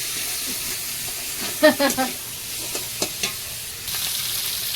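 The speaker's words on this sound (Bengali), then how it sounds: "মাথাটাকে মশলার সঙ্গে আরেকটু ভেজে নেব" Katla fish head frying with turmeric, salt and sugar in a pan, a steady close sizzle and hiss with a few scraping stirs of the spoon partway through.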